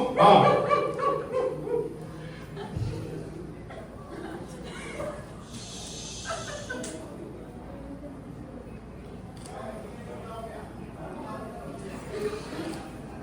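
Dogs bark and yip in a loud cluster at the start, then fainter barks and whimpers follow, with people talking throughout.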